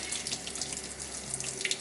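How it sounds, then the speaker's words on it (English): A bathroom tap runs steadily into a sink as a beauty blender sponge is rinsed under it, a close, continuous splashing water flow with no talking. "Just put it under the water again"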